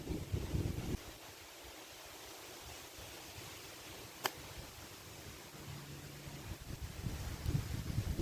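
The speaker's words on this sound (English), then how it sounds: "This wind is doing nothing for me right now." Wind blows across a golf course at Southington Country Club, a steady low rush of microphone buffeting with gustier bursts at the start and end, with no voices.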